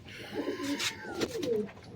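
Tumbler pigeons coo softly, a couple of low throaty warbling calls close by against a quiet background hum.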